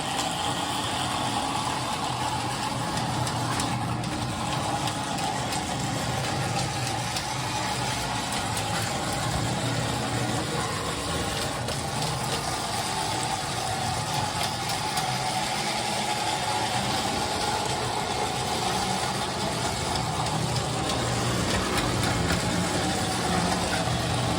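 Model EMD locomotive running on a ceiling railway, producing a steady diesel-engine rumble and hum sound effect throughout, constant and moderately loud with no talk.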